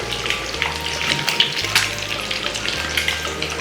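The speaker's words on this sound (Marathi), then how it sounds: "आपले अंडे जे आहेत ना ते फ्राय पॅनमध्ये आहेत ना फ्राय करण्यासाठी ठेवलं आहे" Eggs frying in a frying pan for a spicy egg masala with gravy, a steady close crackling sizzle with bright spattering pops throughout and no talking.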